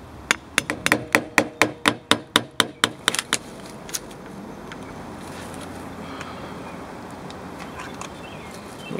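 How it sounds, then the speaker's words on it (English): Hammer knocking pins into a homemade chef's knife handle, a quick run of about a dozen sharp, evenly spaced taps close by, then quiet room noise. "You can get your hammer and knock these in."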